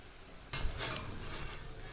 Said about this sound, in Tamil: அப்படியே டீப் ஃப்ரை ஆகிட்டு இருக்குது